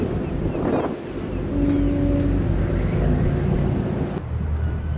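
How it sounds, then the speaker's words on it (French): Strong wind buffets the microphone in a steady, loud roar with low rumbling gusts, and faint water or a boat engine sits underneath. "il y a beaucoup de vent"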